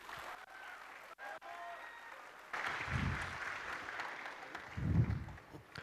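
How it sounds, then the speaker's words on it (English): At a Flutter developer tech talk, the audience applauds to welcome a speaker on stage. After a few seconds of quieter tones, broad clapping swells and stays full, with a couple of louder thumps mixed in. "So with a big round of applause,"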